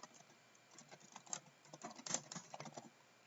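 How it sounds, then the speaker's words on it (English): Fast, irregular tapping of keys on a computer keyboard while entering text into a photo-editing text box, close and fairly quiet, with a few louder keystrokes and no speech. "And you can just start typing."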